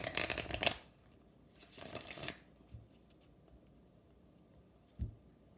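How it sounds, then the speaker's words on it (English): Crystal angel oracle cards are shuffled in two quick riffling bursts, then a few soft taps as cards are drawn and set down, close and fairly quiet. "let's get a couple of crystal angel cards for you"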